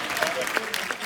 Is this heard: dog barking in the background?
no